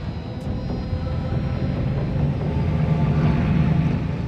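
RAF fighter aircraft engine droning steadily at a distance, a low continuous rumble that slowly swells louder.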